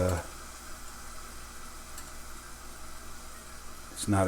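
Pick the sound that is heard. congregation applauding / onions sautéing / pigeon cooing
onions sautéing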